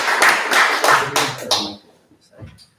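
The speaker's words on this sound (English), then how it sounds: "Once again, Paul Sunderman, round of applause." Gallery audience applauds at a magazine fiction reading, a burst of clapping for about a second and a half that fades into near quiet.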